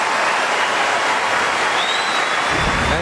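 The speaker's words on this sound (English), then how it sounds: "That gets a rise from the crowd." A tennis crowd at a 2005 Toronto semifinal bursts into loud, sustained applause and cheering after a stab volley, a dense roar that holds steady from start to finish.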